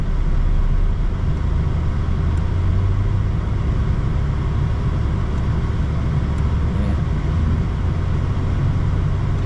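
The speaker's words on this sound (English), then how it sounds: "Let's see if I rev it up right now if it goes way up or not." A 2004 Chevrolet S10 Xtreme Blazer engine runs loud and close with a deep, steady rumble and a slight lift in pitch that suggests revving, alone with no voices.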